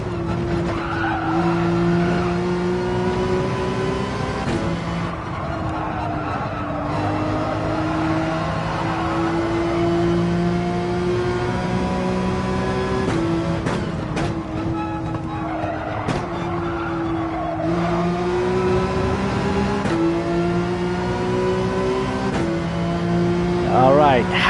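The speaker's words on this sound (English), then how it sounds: "Get this 911 up to 139 miles per hour" Porsche 911 in Gran Turismo 7 accelerating flat out: a sustained high engine whine climbing through several gear changes, with tire squeal and a speaking voice over the racing game sound.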